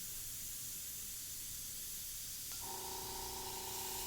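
An Infinity CRPlus airbrush with a 0.2 mm needle sprays primer at its finest setting. It gives a steady, faint airy hiss, and a thin whining tone joins in near the end.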